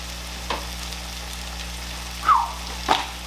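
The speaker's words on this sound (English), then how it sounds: "I'm gonna put it back on the griddle, and I'm gonna grill them up a little bit" Chicken burritos sizzle on a hot griddle as a soft, constant hiss, broken by a few brief louder crackles and scrapes near the end.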